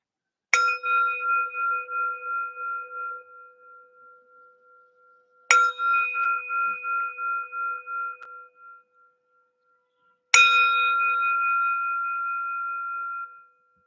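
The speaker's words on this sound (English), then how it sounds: "We start with a bell and a bow" A meditation bell is struck three times to open a sitting, each clear, bright strike ringing with a pulsing tone that slowly fades into silence before the next.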